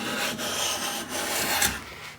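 Low-angle hand plane cutting end grain olive wood, a close, steady scraping rasp as the blade takes shavings, with a couple of stroke starts audible.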